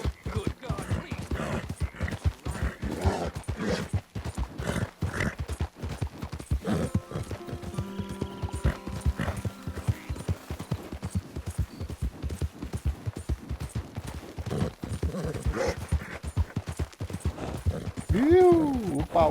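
A horse galloping in Red Dead Redemption 2, its hooves pounding in a fast, steady rhythm through the whole stretch, with some background talk and a brief whinny-like sound near the end.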